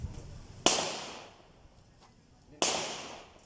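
Two sharp gunshots from a handgun fired at an outdoor range, loud close cracks about two seconds apart, each followed by a short ringing decay, with quiet pauses between.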